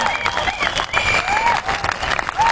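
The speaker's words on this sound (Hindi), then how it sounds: "ताली ऐसी बजाओ कि अगला जन्म आपको ताली बजाने के लिए न लेना पड़े" An audience at an IMC seminar in Prayagraj breaks into sustained, dense clapping that stays loud and steady throughout, with a few bright whistle-like tones rising above the crowd.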